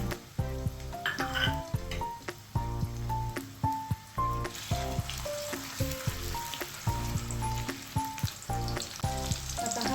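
Chopped onion sizzles steadily in hot oil in a pan for a misal pav masala, with a continuous frying hiss running under loud background music.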